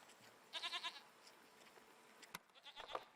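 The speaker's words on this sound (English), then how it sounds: "What are these strange goat-like creatures? Are they simply goats?" Goats bleat in the video game Season: A Letter to the Future: two short wavering calls, the first loud and close, the second after a pause and a faint thump, over a quiet background.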